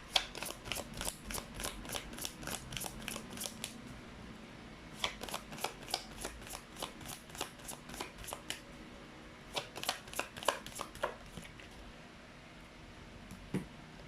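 Chinese fortune cards being handled and shuffled, close rapid riffling in quick bursts separated by brief pauses and softer card handling, no talking.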